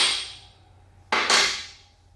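A hammer striking a 1/4-inch metal punch, two sharp metallic blows in quick succession, close and bright, each ringing briefly before fading, with a fading ring from an earlier strike at the start.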